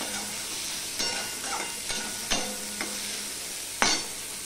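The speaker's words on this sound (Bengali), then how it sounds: "নুন দিলে পেঁয়াজটা তাড়াতাড়ি ভাজা হয়ে যায়।" Salted onions fry in a pan with a steady moderate sizzle, broken by several sharp utensil clacks and scrapes spaced about a second apart.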